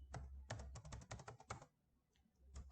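Quick bursts of keystrokes clatter on a computer keyboard, with a short pause before typing resumes, close and fairly quiet with no voices.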